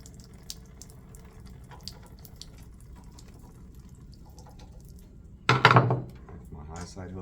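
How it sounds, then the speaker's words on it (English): Water spurts briefly from the bled test cocks of a backflow preventer, a short burst of flowing water near the end after quiet background. "I'm going to bleed my test cocks."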